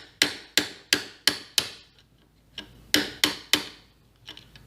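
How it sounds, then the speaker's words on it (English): A hammer strikes a punch to drive a dowel pin out of a Chairman traverse bearing, giving a quick run of five sharp metallic blows, then a pause and three more evenly spaced strikes, close and clear. "Take the punch and put it inside on the dowel pin that's going through the bearing and drive it out"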